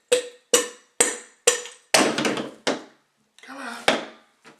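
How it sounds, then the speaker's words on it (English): A rubber mallet strikes a valve assembly being tapped loose, giving a series of close, dull knocks at a steady pace with brief resonant tails, followed by a scrape and a final knock. "unbolt the cap. You got a valve here. Take your rubber mallet."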